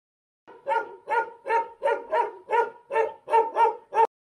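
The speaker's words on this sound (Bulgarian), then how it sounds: "като най-характерното там беше лаещите кучета" Dogs in a village hamlet in Bulgaria's Dragovska mahala bark about ten times in a steady, evenly spaced run, moderately close and alone with no other sounds.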